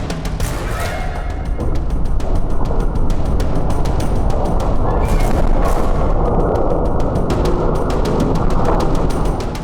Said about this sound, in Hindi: एक धमाके ने पूरे शहर को एक झटके में खाक कर दिया।